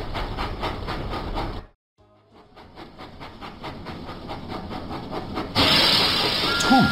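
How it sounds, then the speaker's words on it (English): Thomas the Tank Engine puffing in a children's video game, a steady run of rhythmic chuffs that break off briefly, return more quietly, then swell into a loud burst of steam hiss at the end. "Thomas puffed proudly into the fair."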